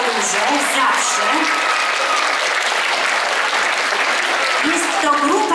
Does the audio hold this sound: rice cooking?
no